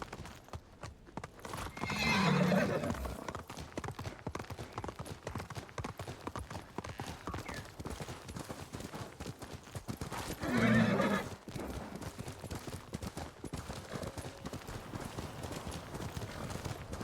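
Horse hooves from the Ghost of Tsushima video game clip-clop steadily throughout, with whinnies or neighs rising twice, loudest near the middle and near the end, and no talking over it.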